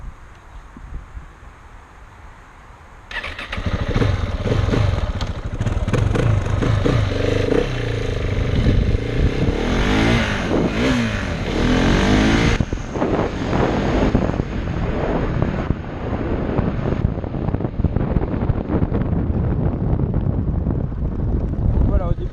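A KTM 690 SMC motorcycle engine roars up steadily through gears, loud and continuous, heavily buffeted by wind noise on the microphone.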